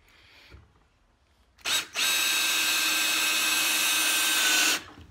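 A power drill with a magnetic bit drives a screw into wood during a custom wooden epoxy countertop build, a quick burst followed by a sustained loud whine for about three seconds, close and alone.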